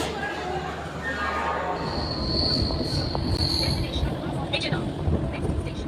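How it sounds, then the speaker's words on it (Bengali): A train departs and rolls past close by at Kulgachhia station, with a steady rumble, rail clatter and high metallic wheel squeals, loud throughout. "এই দিকের লাইনের ট্রেন দেখো, আমরা এই ট্রেনটাতে আসলাম আর এটা ছেড়েও দিল এক্ষুনি"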